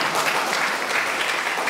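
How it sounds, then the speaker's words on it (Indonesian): A church congregation at a Christmas service claps in a loud, dense, continuous burst of applause. "Tepuk tangan untuk kita semua."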